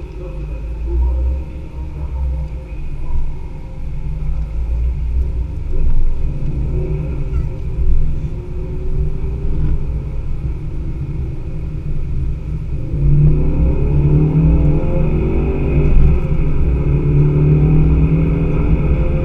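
Ford Focus RS race car lapping the 24 Hours of Le Mans circuit, heard from inside as a steady loud engine drone and rumble with rising revs, continuous throughout with no clear talk.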